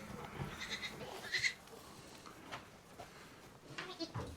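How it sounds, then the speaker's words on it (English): Goats in a pen on a farm during spring kidding season bleat several times: faint, scattered, wavering bleats over a soft rustling background, with no one talking. "these goats truly are pieces of work. I mean, they are just fighting to get out of here."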